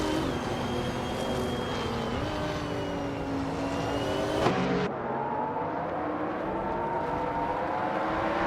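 A 1999 Audi R8 LMP 900 prototype race car in a racing video game, its engine droning and revving steadily throughout with a brief sharp spike midway, loud and continuous with no talk.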